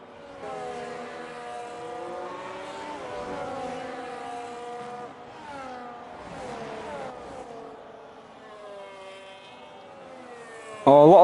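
Mercedes race cars in the F1 26 video game whine through gear changes and braking on the China circuit, shifting engine tones under continuous commentary, with a loud burst at the end.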